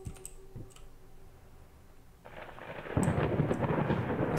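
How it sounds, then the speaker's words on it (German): Rain and thunder outside a house in the horror game Layers of Fear. A faint, quiet patter with a few sharp clicks runs at first, then a steady rush of rain and a low rumble swell in and stay loud. "Bisschen Regen draußen."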